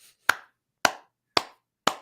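Four crisp hand claps at an even, unhurried pace, each a sharp close smack that fades quickly, with silence between them.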